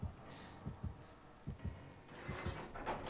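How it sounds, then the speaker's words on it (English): Heartbeat sound in a video game: faint low double thumps repeating in a steady lub-dub rhythm, quiet against soft background hum and a few higher scrapes. "I hear the heartbeat still."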